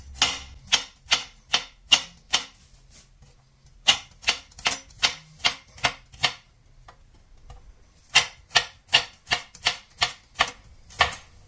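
A knife slices through food on a cutting board in sharp, evenly spaced chops, three bursts of rapid regular strokes separated by short pauses, close and crisp with no talking.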